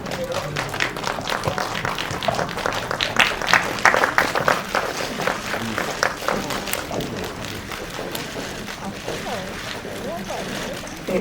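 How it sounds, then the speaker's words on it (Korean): An audience at a film press screening claps steadily to welcome the director and cast, a broad wash of applause lasting about ten seconds with a voice speaking over it. "박수로 맞이해주세요."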